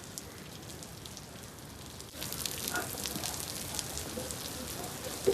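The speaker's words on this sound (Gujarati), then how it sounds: "મસ્ત વરસાદી વાતાવરણ ઝરમર પડી રહ્યો છે." Light monsoon drizzle falls at an Ahmedabad riverfront, a steady soft hiss of rain on surfaces that grows fuller and louder partway through, with no voices.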